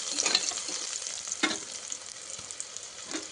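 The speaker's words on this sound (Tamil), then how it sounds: "வெங்காயம் பூண்டு எல்லாம் நல்லா வதங்கணும்." Onions and garlic sauté in a pan for Tamil-style coconut rice, a close, soft sizzle and frying crackle with brief stirring scrapes.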